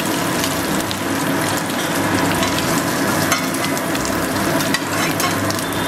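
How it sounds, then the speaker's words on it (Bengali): Round potato slices frying in oil with salt and turmeric, a loud, constant crackling sizzle close up, with no voices. "সেগুলোকে গোল গোল করে কেটে আমি ভালো করে লাল লাল করে ভেজে নেব।"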